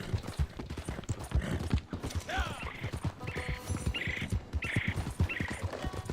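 Hooves clip-clop in a steady rhythm from a horse in a video game, with a few short tonal game chimes and faint voice-like sounds mixed in.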